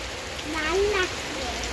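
Steady rain hisses throughout while a voice speaks briefly in the middle.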